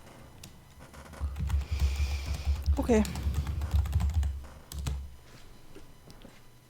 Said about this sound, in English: I hear furious clicking. Typing.